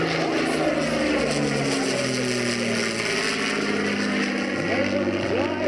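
WWII-era propeller bomber, such as a B-29 Superfortress, flying past at an airshow gathering of vintage bombers, its multiple piston engines giving a continuous loud droning roar with a shifting pitch as it passes.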